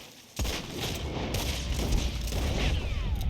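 Gunshots from a video game, a sudden loud burst followed by dense, continuous rapid firing and booming impacts that hold steady for several seconds.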